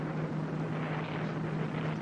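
A rocket engine roars steadily at liftoff in a 1973 sci-fi mini series, a dense, continuous rumbling blast with a low hum, loud and unbroken throughout.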